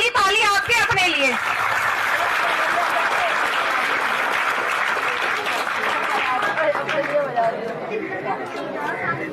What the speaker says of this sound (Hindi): अब ये वाली ताली आपके अपने लिए।